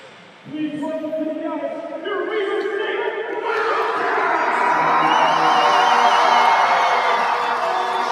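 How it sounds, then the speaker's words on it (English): A large arena crowd at a college ice hockey game between Montana and Weber State erupts into loud, sustained cheering, whoops and applause, swelling and building in intensity and holding at a roar through the end. "Now Weber entering the game to a thunderous applause."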